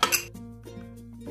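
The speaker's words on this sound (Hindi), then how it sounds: "कुकर ठंडा हो गया है, अब हम इसे खोल देंगे" A cooled pressure cooker, used to cook beetroot, is opened, its metal lid clinking and scraping in a few quick, close knocks before fading into a faint low hum.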